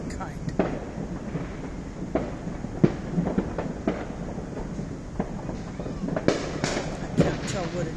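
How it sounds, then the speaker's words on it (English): Independence Day fireworks crackle and boom in irregular bursts, some close and sharp, others distant, over a constant rumbling background that includes an aircraft engine. "the sound of all the fireworks"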